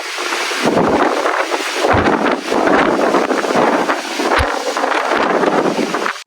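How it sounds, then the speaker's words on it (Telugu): Strong wind roars across the Wind Whistle viewpoint at Horsley Hills, buffeting the microphone in loud, continuous gusts that surge and ease over several seconds with no voices. "గాలి దెబ్బకు చెవులు చిల్లులు పడేలా ఉన్నాయి భయ అందుకే దీన్ని విండ్ విజిల్ అన్నారేమో"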